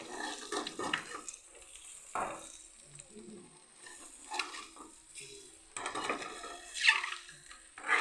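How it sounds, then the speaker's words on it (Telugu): Boiled eggs coated in masala fry in a pan, with bursts of sizzling and stirring scrapes as they are turned over again and again, close and moderately loud. "ఉడికించుకున్న గుడ్డుకి ఇలా పట్టించి తిప్పి తిప్పి వేయించుకుంటే"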